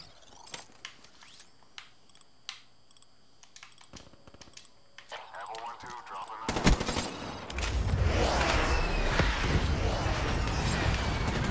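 Automatic gunfire in the game Call of Duty: Black Ops 3 swells into a loud, continuous rattling barrage in the second half, preceded by sparse clicks and quieter shots, with a voice talking briefly.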